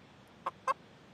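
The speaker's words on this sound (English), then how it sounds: "The fact that my only friend is a chicken." A pet chicken gives two short, close clucks in quick succession against a quiet background, with no talking.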